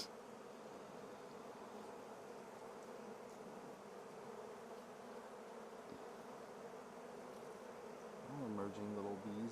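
Honeybees buzz in a dense, continuous drone from an open, queenless hive, steady and close, with a few individual bees whining louder near the end.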